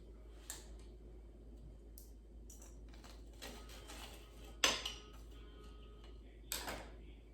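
Cutlery cuts through a crispy air-fried frozen country fried steak on a plate. Quiet, sparse clicks and scrapes build to two sharper metallic clinks against the plate, with no talking.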